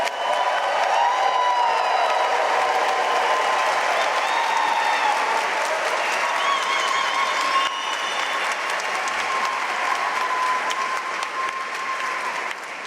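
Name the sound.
audience applause for graduates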